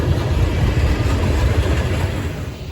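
Norfolk Southern freight train NS18N, led by a BNSF H3 with a GP38-2 third in tow, rolls past as a steady low rumble with faint wheel clatter, loud and continuous throughout.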